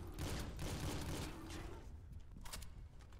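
A gun fires in a video game, a dense rapid fusillade of bursts that is loud at first and then eases into scattered shots.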